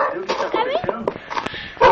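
A dog gives short yips and barks mixed with whimpering, close by, amid overlapping talk throughout.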